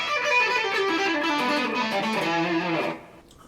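Electric guitar with light distortion plays a rapid descending pentatonic run in groups of three, notes stepping steadily downward for about three seconds before cutting to near silence, no voices.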